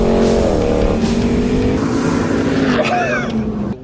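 Ram TRX trucks drag race, a loud engine drone with rising gear-shift whines as they pull away, a voice talking over part of it.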